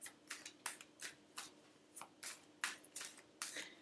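Cards are shuffled and drawn by hand in quick, soft, rhythmic riffling bursts, faint and close, with no talking.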